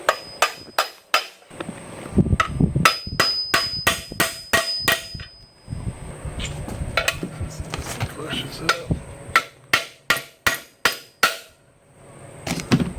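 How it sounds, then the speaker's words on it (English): A hammer taps a bearing into place inside a Dana 20 transfer case from a 1966 Ford Bronco, giving sharp metallic strikes in quick bursts with short pauses and a brief scrape partway through. "we have to tap this bearing on while it's inside the case"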